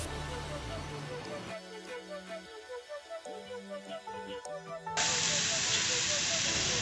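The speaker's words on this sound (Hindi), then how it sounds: "ये सबसे पहले प्याज हमने ग्राइंड की हुई इसमें डालेंगे और इनको हम भून लेंगे" Ground onions hit hot oil in a pan for kofta curry, a soft sizzle running under background music before a loud steady hiss surges up near the end.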